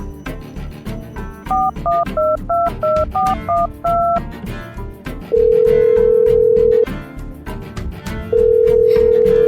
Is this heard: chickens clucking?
no